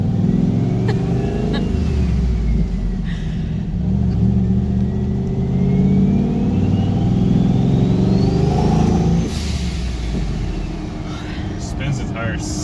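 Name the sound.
turbo EFI 460 Ford accelerating and spinning its tires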